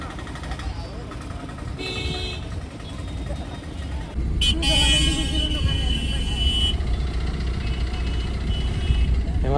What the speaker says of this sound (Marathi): पण इथं ट्रॅफिकच खूप मोठा आहे भाऊ